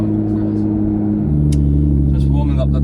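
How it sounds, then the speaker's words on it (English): Porsche 992 Turbo S, a 1500 bhp Miami Blue 911 Turbo S, warming up: a loud, steady low engine drone close by, deepening slightly after a second, with brief clicks and a speaking voice over it. "Just warming up the car, you know."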